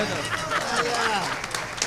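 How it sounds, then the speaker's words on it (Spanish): An audience applauds in a studio with a burst of scattered claps, over which a voice talks briefly. "Ahora Surgente le va a aplaudir a Néstor Damián Giret y los misioneros."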